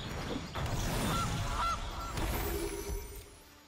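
Goose honking sound effect from the MTG Arena card game as a Goose card is played, with a couple of loud honks over busy game audio and background music.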